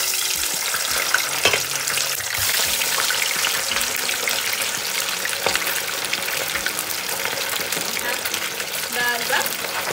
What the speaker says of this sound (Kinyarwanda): mfite isafuriya ntoya ndabanza nshyireho amafi ndangiza nyacishe mu mavuta